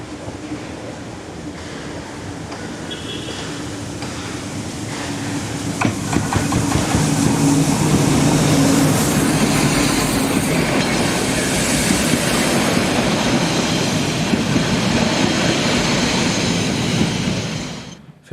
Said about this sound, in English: 210-2 tank locomotive number 997232 arrives with the 10:08 service from Nordhausen.